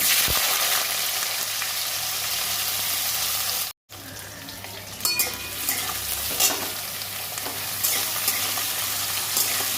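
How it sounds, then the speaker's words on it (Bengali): Potatoes and two dried red chillies fry in a pan with a loud, steady hissing sizzle. The sound breaks off once briefly, then carries on with intermittent scraping and clattering stirs. "দুটো শুকনো লঙ্কা আলুগুলো ভেজে নেবো"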